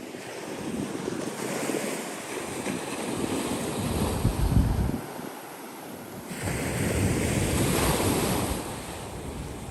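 Ocean waves roll onto a beach in a continuous wash of surf under gusty wind buffeting the microphone. Two broader surges swell and recede, with no voices.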